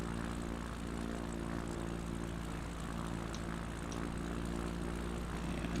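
An aircraft engine drones in a flight simulator game as the plane hovers over a runway, a steady loud propeller hum with no break and no talking.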